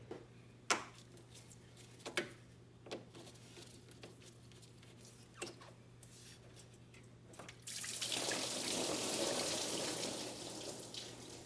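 Coolant leaks from a hose on a Ford F150 into a drain container, with scattered drips and splashes that swell into a steady, louder pouring trickle for the last few seconds.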